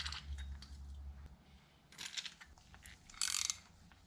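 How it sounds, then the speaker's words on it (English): Aluminum kickstand bolt threaded by hand into a motorcycle's threaded hole, giving close, faint metallic ratcheting clicks and scraping turns in short irregular bursts, with a louder grinding burst near the end. "I'm just gonna thread this in and hopefully it retaps it to this thread pitch."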